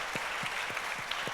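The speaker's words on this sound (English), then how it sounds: "they all deserve a round of applause" Audience applause at a cleantech awards event, a steady wash of clapping from a crowd with a few louder individual claps near the front.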